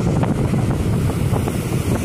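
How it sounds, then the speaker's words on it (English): Strong gusts at a beach on the Mexican coast batter the microphone in a loud, roaring rumble, with surf washing underneath and no voices. "It is so incredibly windy,"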